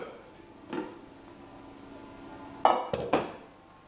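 A metal saucepan is handled in a home kitchen while preparing Maltese stuffed marrow, giving a soft knock early on and then a few sharp clanks and scrapes near the end, close and fairly clear.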